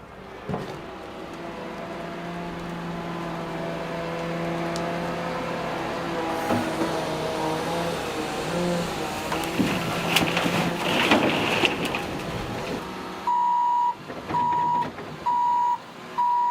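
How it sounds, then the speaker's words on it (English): Heavy machinery digging a large backyard hole: an excavator scraping dirt and a loader moving it, with engine rumble and clanking building to loud bursts, then a truck's reversing beeps sounding in a steady repeated pattern near the end. "The excavator with its long arm will scrape away the dirt and dig the hole, while the loader with its large bucket will move the dirt away from the hole"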